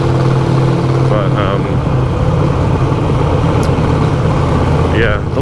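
Steady mid-pitched motorcycle engine drone heard while riding, constant and loud with wind rush, a continuous running hum without clear revving changes throughout.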